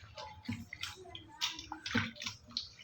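Amaranth greens are rinsed by hand in a basin of water, giving close, irregular splashes and sloshes in short bursts.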